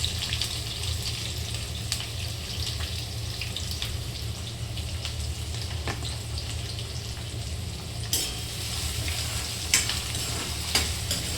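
Garlic fries in a pan, giving a continuous close sizzle with occasional sharp scrapes and clinks of stirring, steady and loud throughout with no talk.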